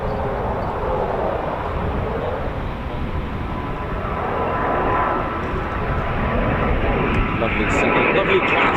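A Eurofighter Typhoon FGR4 jet roars continuously on approach at RAF Coningsby, a broad, steady rumble holding at strong level throughout with a slight swell midway, no voices over it.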